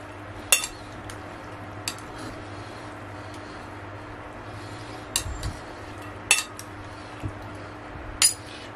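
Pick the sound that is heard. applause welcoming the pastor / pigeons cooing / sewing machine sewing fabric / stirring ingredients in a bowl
stirring ingredients in a bowl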